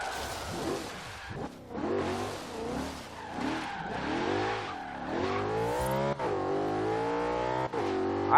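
The V8 engine of a slammed Audi RS4 in Forza Horizon 3 revs hard and climbs through gears, loud and close, with rising and falling engine tones and a hint of tire squeal.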